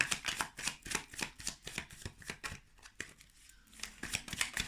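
Tarot cards shuffled close up in quick, rhythmic riffling bursts with a brief pause midway, fairly quiet and without talk.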